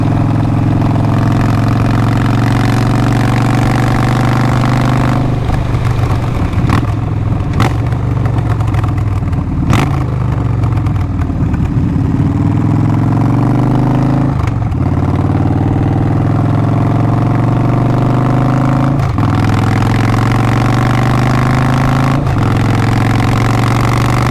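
A Victory motorcycle engine running close up while riding, a loud continuous low rumble with several brief throttle blips and gear-change dips.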